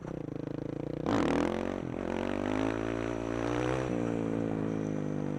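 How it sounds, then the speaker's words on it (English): A supermoto motorcycle engine revs hard with a sudden surge for a wheelie into weeds, a loud buzzing harmonic drone that briefly dips then holds steady, close and with no talk. "Let's do a wheelie into the weeds."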